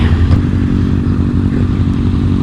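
A motorcycle engine rumbles loudly and close in a steady, throbbing drone during a downtown daytime wheelie, with faint clatter over it.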